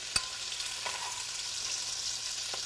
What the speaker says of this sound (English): I've got a bit more venison here, so I'm just going to sear that off.